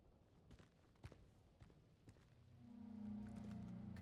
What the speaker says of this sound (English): Hear footsteps.